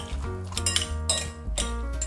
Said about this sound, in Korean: 물기를 제거하고 큰 볼에 담아서 으깨줄게요